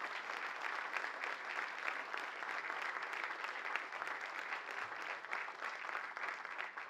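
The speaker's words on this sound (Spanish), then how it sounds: "pedir un fuerte aplauso para Telesur" Steady, dense applause from a large crowd at a talk, continuous clapping holding at an even level throughout without talk.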